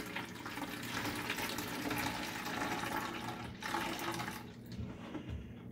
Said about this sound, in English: We're going to dump this last bit of cloudy water out.